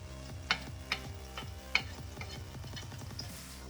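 Caramelizing onions sizzle in a pot while being stirred, soft scraping strokes and a few sharp clicks of the utensil over a low, steady frying hiss.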